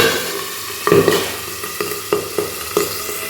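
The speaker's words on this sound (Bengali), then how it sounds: "মাছটা এক পিট ভাজা হয়ে গেছে এবার আমি মাছটাকে আর এক পিট উল্টিয়ে দেবো" Boal fish frying in hot oil in a pan, a steady broadband sizzle broken by several sharp clatters and scrapes as the fish is turned, close and fairly loud with no talking.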